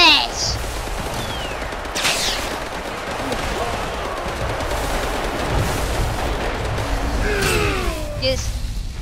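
Gunfire in the dinosaur-and-human shooter game Primal Carnage: a dense, continuous rattle of shots and bursts from the game, with excited players' voices shouting over it.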